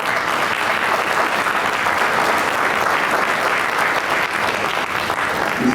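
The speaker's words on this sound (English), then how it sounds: "Let's give Mr. Graham a round of applause." Audience applause fills a civic association and Rotary Club gathering, a dense, steady clapping from many hands that holds at full strength without a break for nearly six seconds.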